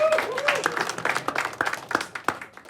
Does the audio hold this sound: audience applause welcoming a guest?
yes